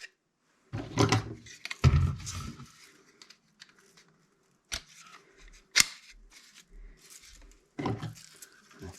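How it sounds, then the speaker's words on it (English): Rifle magazines being handled and placed onto 3-gun competition gear, with scattered close clicks, rustles and sharp plastic snaps at irregular intervals, separated by quiet pauses. "I'll throw on a couple of my rifle mags."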